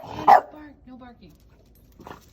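A dog gives one sharp, close bark, then a softer whine follows. Someone speaks right after it.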